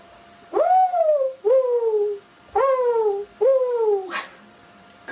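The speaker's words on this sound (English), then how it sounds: "Morning dove." Mourning dove coos in four drawn-out calls, each starting with a rising swoop and sliding down, spaced evenly with brief gaps and a short rustle at the end.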